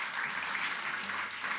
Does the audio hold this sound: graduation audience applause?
yes